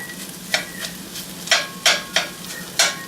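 Spatula scraping and breaking up black bean taco filling in a hot pan, a series of sharp, bright scrapes spaced irregularly over a soft steady sizzle, fairly close and with no voices.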